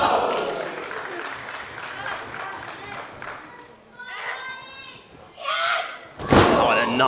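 A pro wrestler drives an opponent into the mat with a sit-out facebuster at an ATTACK! Pro Wrestling show, a sharp loud slam at the end after crowd noise and ringside commentary.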